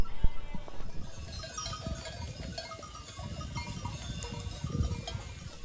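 A large flock of 1200 ewes on transhumance in Savoie bleats in scattered calls, near and far, over shuffling and rustling, with cowbell-like clinks in the background.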